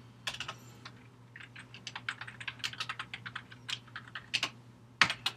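Rapid typing on a computer keyboard during coding, a steady run of close, crisp key clicks with uneven rhythm and a few louder strokes, over a low constant hum, no voices.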